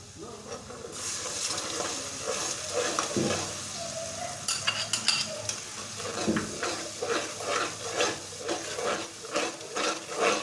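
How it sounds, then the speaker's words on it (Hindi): Yogurt being stirred into sizzling turmeric and coriander powder in a pan for mutton kofta biryani, with a constant sizzle under repeated scraping and clinking of a spoon against the pan, close and moderately loud. "दही को अच्छी तरह से मिक्स कर लेंगे।"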